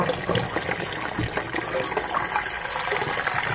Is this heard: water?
yes